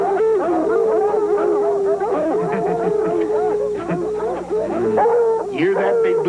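Redbone hounds baying on a fox hunt, long warbling howls and yelping bays from several dogs overlapping in an unbroken chorus, loud and near, with voices talking among them.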